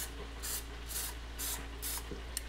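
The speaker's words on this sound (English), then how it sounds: "So I'm just gonna spray these down." Cooking spray hisses in four steady bursts and one final short puff onto flake-coated walleye fillets before air frying, close and alone.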